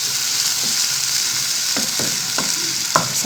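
Tomato masala cooks down in a pan with a steady soft sizzle and a handful of spaced scraping stirs near the end, heard close with no speech.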